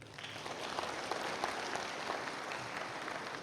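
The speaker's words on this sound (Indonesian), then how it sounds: "Sekali lagi tepuk tangan hadirin sekalian" Audience applause at an Indonesian award ceremony, a steady wash of many hands clapping at moderate volume throughout, with no voices over it.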